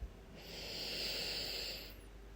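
A single slow, calm inhale drawn in over about a second and a half, a soft airy hiss that swells and fades, close and quiet with no talk.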